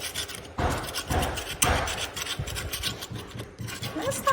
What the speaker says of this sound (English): So I'm gonna do a little scraping.